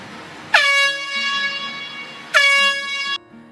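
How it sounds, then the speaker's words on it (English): Two loud blasts of an air horn, the first long and the second shorter, each a blaring brassy tone cutting off abruptly. "we have an air horn, like what you'd hear at a football game or at a hockey game"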